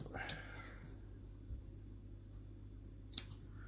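Scissors snip through wicking cotton for a vape coil rebuild in two short, crisp cuts about three seconds apart. They are close and fairly quiet against a soft background hum.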